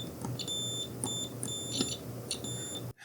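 A multimeter in continuity mode during a video game repair gives repeated short, high beeps in a regular pulsing pattern over a low steady hum, close and moderately loud.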